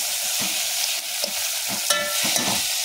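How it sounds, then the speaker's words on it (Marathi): Spring onion greens with cumin, mustard seeds and green chillies sauté in hot oil in a pan, giving a constant bright sizzle broken by regular scraping stirs, about three or four strokes, with no voice. "जिरे मोहरी टाकून त्यात मी कांद्याची पात व हिरव्या मिरच्या टाकलेल्या आहेत। तर आता मी चांगलं ह्याला परतून घेत आहे।"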